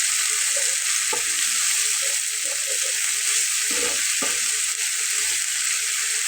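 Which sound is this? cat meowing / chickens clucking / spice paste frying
spice paste frying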